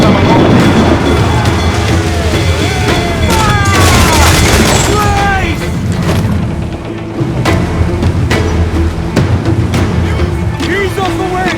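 Fort cannons in Assassin's Creed IV Black Flag fire in heavy booming volleys during a naval battle, deep blasts stacking over crashing sea and ship noise while voices shout over the din.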